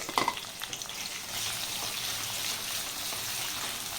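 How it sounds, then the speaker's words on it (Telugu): Sliced onions hit hot oil in a pan for a raw prawn curry, a sharp initial crackle followed by a steady, bright sizzle that continues evenly, close and moderately loud with no talking. "ఆయిల్లో ఆని ఆనియన్స్ వేసేసానండి"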